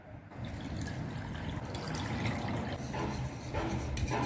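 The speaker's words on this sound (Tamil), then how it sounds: "1/2 கப் தண்ணி விட்டு கட்டி இல்லாமல் நல்லா கரைச்சிக்கலாங்க" Cornflour stirred into half a cup of water in a pan until smooth, a steady close liquid swishing and sloshing with faint drips and no talk.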